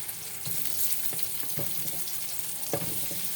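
Squash, string beans and eggplant frying in a pan, a steady, dense sizzle with soft stirring knocks running throughout.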